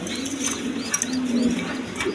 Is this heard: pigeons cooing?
yes